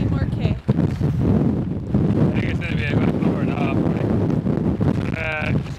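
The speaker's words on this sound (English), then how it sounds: "It can be a little bit hard to portray how windy it actually is, I think, on camera" Strong wind buffets the microphone at the Thakgil campsite in Iceland, a loud continuous roar with gusty rumbling throughout and faint higher whistling tones breaking through.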